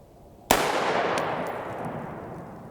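A single loud rifle shot of an IMI M855 round fired into a pineboard box at a range, a sharp close crack followed by a long fading echo and rumble, with no talking.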